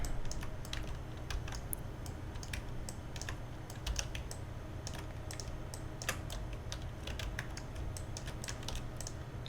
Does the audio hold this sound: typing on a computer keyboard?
yes